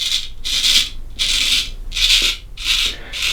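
Straight razor scraping through heavy beard stubble in slow, even strokes, five or six raspy passes close to the ear with short pauses between, no talking.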